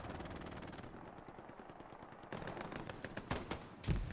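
Machine gun fire in the game Hell Let Loose during an 18-versus-18 tournament match, with rapid bursts of automatic shots that grow sharper and louder toward the end, alone without talk.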